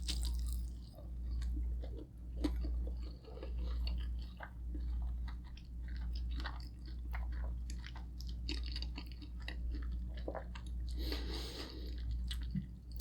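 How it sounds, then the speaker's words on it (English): Someone chews through a mouthful of egg at a Filipino breakfast of longanisa sausage and roasted pork belly, with close, wet, squishy bites and mouth sounds over a low hum. "I'm just gonna eat the whole egg if I can fit in my mouth"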